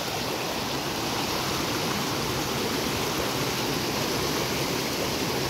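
A steep hillside stream swollen by heavy rain rushes past a damaged mid-hill highway in Baglung, a loud, unbroken roar of churning water with no pauses and no voices.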